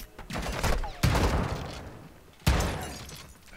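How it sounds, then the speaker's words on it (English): Two loud, sudden bursts ring out in the Modern Warfare II 2022 campaign, each a sharp crack followed by a long decaying roar, the second one coming about a second and a half after the first amid continuing gunfire clatter. "Another flashbang."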